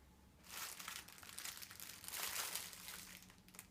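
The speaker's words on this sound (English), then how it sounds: "Do you like the crinkly sound?" Crisp crinkling of new stationery packaging being handled up close, a dense run of plastic rustles and crackles lasting a few seconds with no talk.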